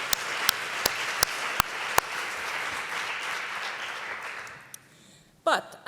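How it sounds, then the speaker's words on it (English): Applause from a conference audience, a steady mass of clapping with a few sharp individual claps on top, fading out toward the end before a brief closing noise. "So one extra applause for this work."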